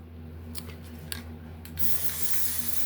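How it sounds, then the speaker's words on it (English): An aerosol spray can hisses onto a screen printing board in a sign shop, a few quick short bursts followed by a longer steady spray, close and alone over a low electrical hum. "Put a little spray here."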